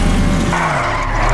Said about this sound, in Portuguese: Opa, opa, derrapou, derrapou